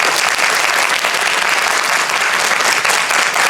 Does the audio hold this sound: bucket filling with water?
no